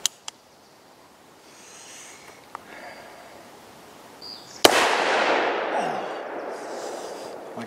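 Bond Arms Rowdy derringer firing a single .45 Long Colt round outdoors, one sharp loud crack followed by a long rolling echo, with a few small clicks beforehand.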